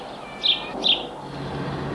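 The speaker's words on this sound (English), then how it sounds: "birds cheep" Two short high bird chirps in quick succession, light and clear against a soft background hum.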